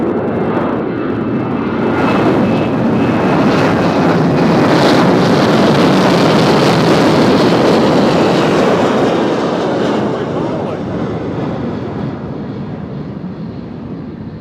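An airliner departing from runway 2 left at Nashville International Airport, a loud jet roar that swells up, peaks strongly, then gradually fades as it climbs away, with no voices over it.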